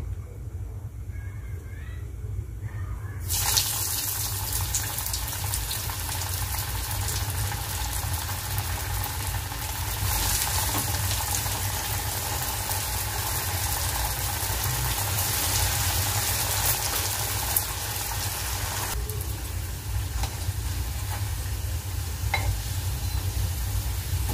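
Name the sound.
vegetable bread rolls deep-frying in hot oil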